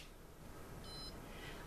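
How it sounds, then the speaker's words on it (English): A FIRSTtx pain-management device gives a single short, high electronic beep as it switches on. The beep is faint and clean against a steady soft hiss. "a beep and a light illuminated will let you know that the device is functioning"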